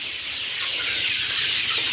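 Egyptian Fayoumi chickens on a poultry farm cluck steadily against a constant airy background hiss, close and fairly loud, with no talking.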